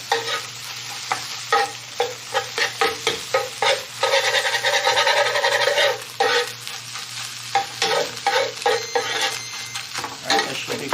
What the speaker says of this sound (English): So give this a little stir,